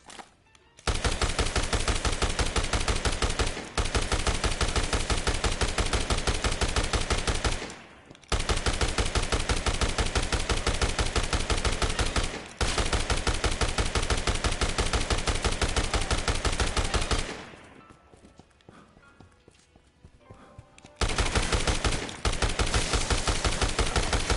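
Sustained machine gun fire from the video game Dead Rising Deluxe Remaster, loud dense rapid bursts running nearly continuously with a few brief pauses and a quieter lull near the end.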